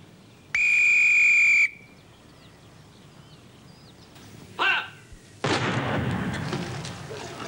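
A whistle blown during a Home Guard exercise with a 3-inch Smith Gun in a wartime comedy sitcom gives one loud, sustained shrill blast, followed by a brief thump and tone and then a burst of broadband noise.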